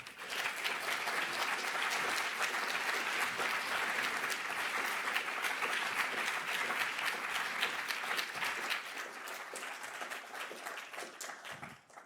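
Sustained, dense applause from a lecture audience welcoming a neuroscience speaker, steady and fairly distant in a large hall, holding level for most of the stretch before thinning out near the end.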